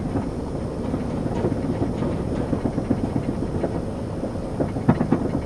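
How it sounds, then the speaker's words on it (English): A trailer rattles with light, continuous clatter as it is towed along a freshly paved Quebec highway in the evening, layered over steady road and engine rumble with no talk. "You can hear the trailer rattling a little bit there."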